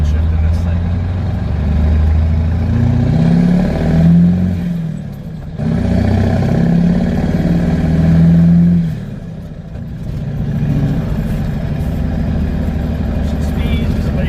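Medium duty truck with a CAT 3208T turbo diesel working through gear shifts on a road drive, a loud low diesel drone that drops away twice between shifts before pulling again.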